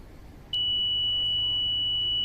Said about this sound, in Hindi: अपने ये सारे मैसेजेस आपको बीप के साथ सुनाई देंगे